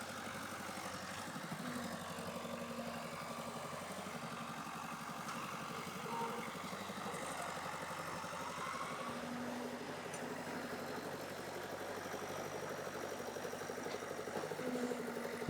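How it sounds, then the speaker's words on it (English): A backhoe engine runs steadily while trenches for water pipes are filled on a dusty Costa Rica site, a low, even mechanical drone at moderate distance with faint scraping and no speech. "So today we're gonna fill up the trenches with the backhoe."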